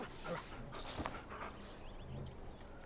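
Wolf companion in Far Cry Primal giving low, close whimpering and growling sounds with panting breaths over steady game ambience, with no one talking.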